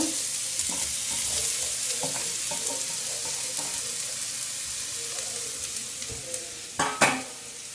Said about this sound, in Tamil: இப்போ உருளைக்கிழங்கு போட்டுடலாம், மேஷ் பண்ணி வச்சுருக்கிறத